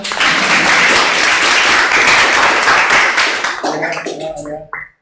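Classroom audience applauds during a lesson presentation, dense clapping filling most of the clip before thinning into scattered claps and a few murmuring voices at the end.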